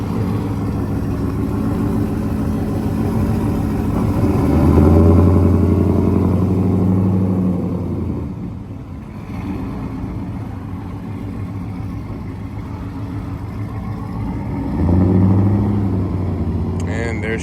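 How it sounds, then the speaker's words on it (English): Cammed 5.3 V8 with a new exhaust starting up and idling, a loping, choppy rumble that swells twice in loud revs before settling back, with someone talking over it. "So probably the last startup you guys are gonna hear, it's not cold."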